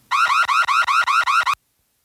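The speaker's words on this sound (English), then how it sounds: "It says house alarm" A house alarm sound effect blares seven loud, identical electronic whoops in a steady, rapid rhythm, then cuts off abruptly into silence.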